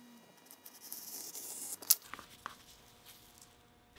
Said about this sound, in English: since I'm doing frames, I'm going to cut the book into strips